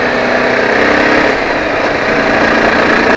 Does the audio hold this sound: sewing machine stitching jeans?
no